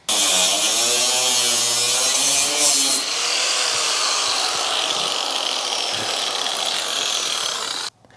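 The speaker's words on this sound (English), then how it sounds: "get our pie cuts going so we can bend back this inner sheet metal" A power tool cuts relief slits into the inner fender sheet metal of an 80 Series Land Cruiser being modified for 42-inch tires. It gives a loud, steady, close-up grinding whine that runs about eight seconds and then stops abruptly.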